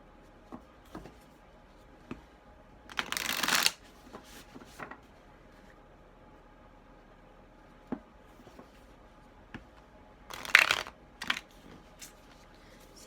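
Moonology oracle cards being shuffled by hand, two short riffling bursts separated by quiet handling taps and small clicks, close and soft.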